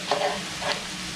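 Fried okra stirred in hot oil while being scooped up from the pan, a close, steady sizzle with two soft scraping stir strokes.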